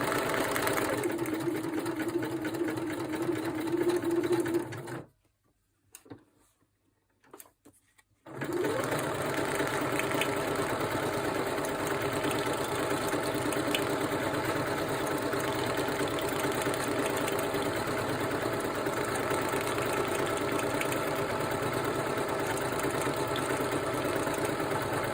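Sewing machine stitching embellishment onto paper ephemera, a steady whirring mechanical hum that runs almost throughout, stopping briefly for a few seconds before resuming.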